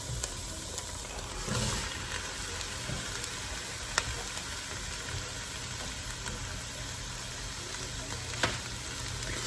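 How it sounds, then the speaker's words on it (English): Pre-cooked sausage browning in a home kitchen pan, a steady soft sizzle and crackle running throughout at moderate level, with a few sharp pops and no talking. "all we have to do is brown the sausage because it's already cooked"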